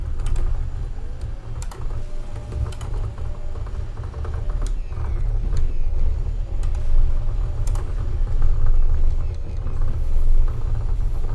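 A car races in Assetto Corsa on the Nordic Arena track, with a loud, steady engine rumble running throughout, swelling slightly, and light clicking mixed in.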